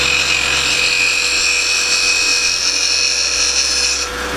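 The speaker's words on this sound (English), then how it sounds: "I start scraping, and I move up into it and then move past it." Scraping tool working a wooden acorn box spinning on a lathe, a steady abrasive rasp with a bright hiss held close and loud for about four seconds, easing off at the end.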